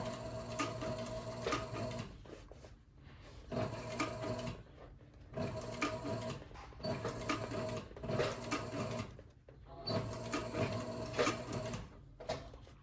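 A sewing machine stitches a leather sport shooting bag in five rhythmic bursts of rapid mechanical chatter, each about two seconds long and separated by short pauses. It is close and clear, with no talking.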